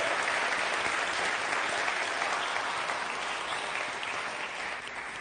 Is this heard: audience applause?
yes